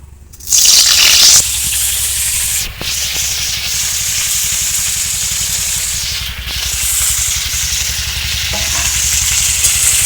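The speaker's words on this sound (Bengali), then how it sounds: "তেলটাও গরম হয়ে গেছে, এবার কপিগুলো এর মধ্যে দিয়ে দেব।" Cauliflower pieces dropped into hot white cooking oil, a loud burst of sizzling at first, then a steady crackling fry with occasional stirring scrapes, close up and continuous.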